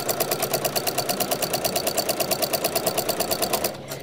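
A sewing machine stitches binding onto a quilt edge, running close and steady with a fast, even rhythmic chatter before slowing to a stop near the end.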